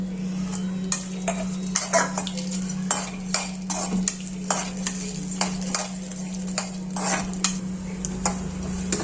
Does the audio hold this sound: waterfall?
no